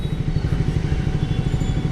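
A Triumph Speed 400 motorcycle ridden along, its single-cylinder engine giving a steady low throbbing drone with faint mechanical clatter, close and constant without speech.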